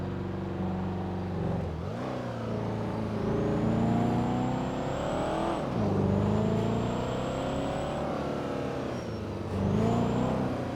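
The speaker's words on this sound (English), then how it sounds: "we just saw a box truck go through here" A box truck drives past with a steady engine roar that rises and falls as it goes by, with brief bursts of acceleration and air-brake hiss, loud and close, with no talk over it.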